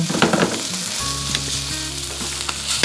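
Fish fries skin-side down in a lidded pan, giving a loud, close, continuous crackling sizzle with a low hum running underneath and scattered pops throughout.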